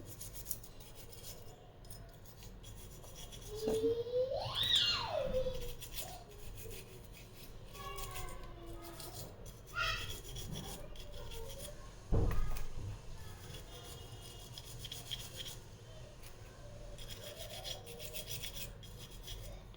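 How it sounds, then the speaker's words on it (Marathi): A copper idol being scrubbed with a brush and dry Colgate powder, heard as close, rough rasping strokes in uneven bursts, with a few squeaky rubs and a sharper knock partway through. "ब्रशने असं छान घासायचं आहे ही मूर्ती कोलगेट कोरडी कोलगेट पावडरने घासायचं आहे"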